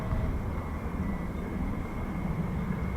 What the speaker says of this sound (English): I think the F-15 that went back is coming back